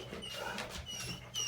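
A pet dog gives a few short, high whimpers close by indoors, soft and thin over a low background hum, with no talking.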